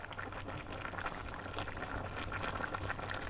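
Ham broth with cabbage and potatoes boiling in a pot, a steady close bubbling and simmering wash that runs without pause, with no talk.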